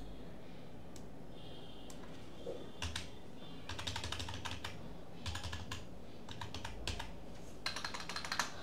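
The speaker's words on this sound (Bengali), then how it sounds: "এখানে যদি আমি লিখি ইউনিক জোন" Text is typed on a computer keyboard while working in Illustrator, with irregular bursts of light key clicks and pauses between them over a quiet background hiss, with no talk.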